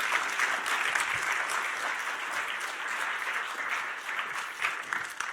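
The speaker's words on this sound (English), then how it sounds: "A round of applause," Sustained audience applause at a film pitch event, a dense, even wash of many hands clapping throughout, fairly close and steady.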